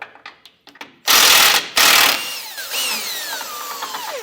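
An 18 mm socket on a ratchet loosens a very long tow hook bolt during a Blue Ox base plate install, close and loud with quick clicking and metallic scraping, two heavy bursts, then a descending squeak as the bolt turns.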